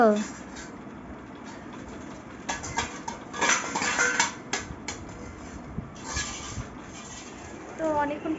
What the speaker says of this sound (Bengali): চামচ বাটি নিয়ে খেলা করতে বসেছে